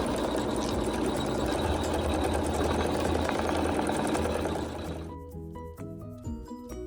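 Sewing machine stitching quilting on a quilt block: fast, even mechanical whirring that runs steadily for about five seconds, then stops, leaving a few soft clicks and a brief musical tone.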